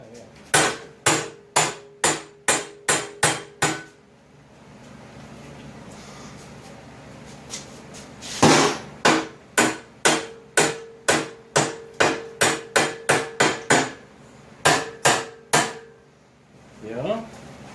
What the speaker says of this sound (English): Let's just go for the big ball peen right out of the gate.